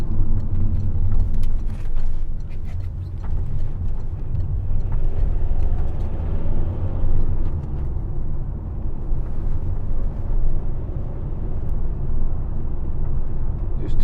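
A 2015 Toyota ProAce 2.0 HDi van heading up a motorway, a loud low cabin drone of engine and road rumble with wind buffeting, steady throughout.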